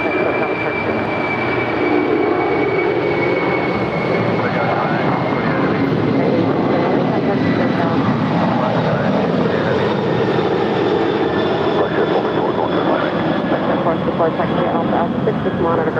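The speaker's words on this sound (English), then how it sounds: "That is Atlas Air 8628 departing to Anchorage. It's a 25-year-old 747-400 freighter." A 25-year-old Atlas Air Boeing 747-400 freighter departs LAX, its jet engines producing a loud, steady, sustained roar with a slowly falling whine that fills the whole stretch.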